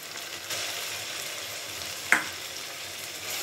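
Onion fries in a pan with cumin paste and ginger-garlic paste while cooking khichuri with chicken, a steady close sizzle with one brief sharp crackle partway through.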